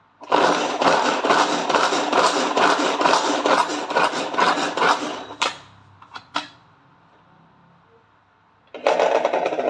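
Prestige veggie cutter chopping two beetroots: loud, rapid rasping whirr for about five seconds, a few brief clacks during a lull, then the rasping chopping starts up again.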